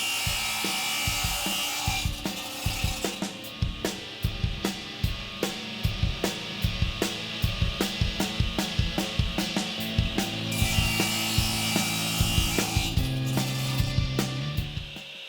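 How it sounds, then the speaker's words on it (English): A radial arm saw cross-cuts a roughly 11-inch-wide wooden shelf down to 9 inches, a steady close motor whine broken by repeated rhythmic cutting bursts and knocks, with no voices. "We'll begin by cross-cutting the shelf down to 9 inches on the radial arm saw."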